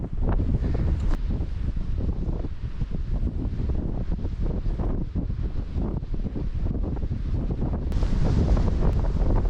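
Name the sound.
strong wind on Sierra Nevada mountain hike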